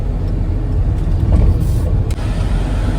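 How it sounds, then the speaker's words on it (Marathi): Heavy road traffic on a highway heading toward Alibag on a rainy Sunday, a loud continuous rumble of car and bus engines close by, with a brief hiss of air brakes. "आता या रोडला ट्रॅफिक आहे, भरपूर गाड्या आल्या, भरपूर."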